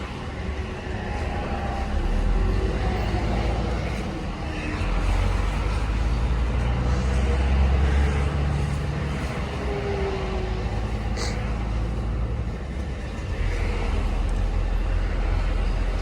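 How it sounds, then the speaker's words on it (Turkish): Istanbul city traffic roars on from inside a truck on a long haul: a dense, continuous rumble of car and heavy vehicle engines with swelling low drones and passing vehicles, loud and steady with no talk. "Klasik İstanbul. Her yer trafik."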